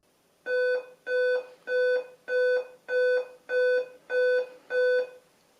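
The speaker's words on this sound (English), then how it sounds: "When I try to turn on the laptop, the screen stays black, and in the background, I heard 8 beeps." Eight identical loud electronic beeps, evenly spaced about every half second, come from an Alienware M17x R3 laptop that stays on a black screen at power-on, a steady diagnostic tone pattern in a quiet room.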